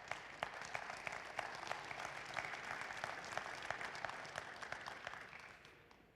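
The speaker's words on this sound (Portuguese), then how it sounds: "Uma salva de palmas." Audience at an entrepreneurship conference session applauding panelists called to the stage, quiet but steady clapping from many hands with sharp individual claps standing out, tapering off at the end.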